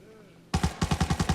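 An enemy boss in the shooter Arena Breakout opens up with automatic gunfire, a sudden burst of about eight rapid, evenly spaced loud shots after a brief quiet moment with faint background hum.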